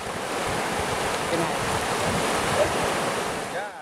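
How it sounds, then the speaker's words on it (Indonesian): Rushing water of a river flooding in rainy season in Malaka, East Nusa Tenggara, a loud continuous roar of fast current with wind buffeting the microphone. "Akses menuju ketiga kecamatan pun dialiri arus air yang deras."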